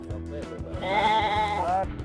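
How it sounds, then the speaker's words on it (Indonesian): A Garut sheep on a breeder's farm in Tarogong Kaler, Garut, gives one loud, wavering bleat lasting about a second, close by, over a low steady background hum. "Kenalan yuk dengan domba Garut aslinya."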